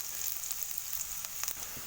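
Finely chopped small onions, about 100 grams, frying in hot oil for a bitter gourd curry, a soft continuous sizzle with faint crackles and a few light stirring scrapes, quiet and close.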